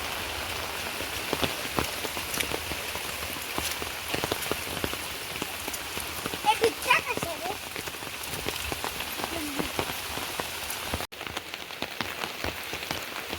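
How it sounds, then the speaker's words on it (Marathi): Steady morning monsoon rain falling on surfaces in Rajapur, Konkan, with scattered drips and patters close by, continuous and moderately loud. "आज परत सकाळी सकाळी पाऊस चालू झालेलो"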